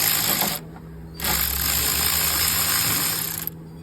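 Ratchet working the 15 mm top alternator bolt loose on a 2014-2019 Ford Explorer 3.5 engine: a loud, close, continuous buzzing ratchet, a short pause, then a longer steady run.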